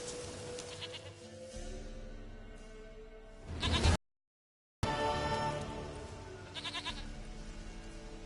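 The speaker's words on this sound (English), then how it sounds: "Goat of mine, dearest," A goat bleats repeatedly in the video game The Witcher 3, with wavering cries up close, a brief dropout of complete silence midway, then more bleats afterward, with no talking.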